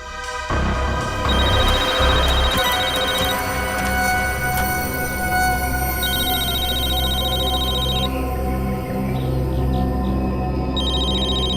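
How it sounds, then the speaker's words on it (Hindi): A mobile phone rings with a repeating electronic ringtone, steady and fairly clear over a low background hum, in short looping bursts with gaps between them. "सर फोन रिंग हो रहा है।"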